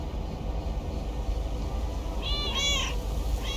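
A cat meows several times in the video game Lake, short high mewing calls near the end over a low steady background rumble.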